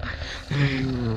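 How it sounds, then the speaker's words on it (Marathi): A low growl rumbles outside a door in a horror story, a short close, menacing snarl that rises suddenly after a soft breathy lead-in. "दाराबाहेरून गुरगुरण्याचा आवाज येत होता."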